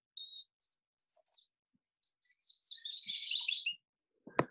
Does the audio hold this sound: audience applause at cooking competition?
no